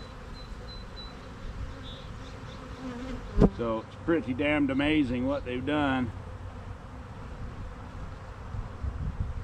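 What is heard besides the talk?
honeybees buzzing in a queenright cell starter hive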